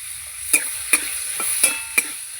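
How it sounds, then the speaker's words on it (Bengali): Bitter gourd frying in oil, a steady soft sizzle broken by five sharp metallic scrapes of a spatula at roughly even intervals, close and fairly quiet with no voices. "উচ্ছেটা আমার ভাজা হয়ে গেছে তুলে নিচ্ছি"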